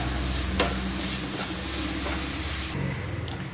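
Grated coconut and sugar heating in a pan for Malabar unnakkaya, with raisins and cashews added in, giving a continuous close sizzle with stirring scrapes before a brief quieter moment.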